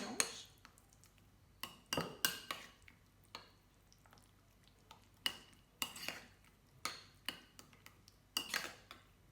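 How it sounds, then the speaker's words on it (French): Homemade filet-o-fish sauce with pickles and chives being stirred in a bowl, a spoon clinking against the sides in irregular bursts of scraping taps, close and fairly quiet with no talk. "On mélange."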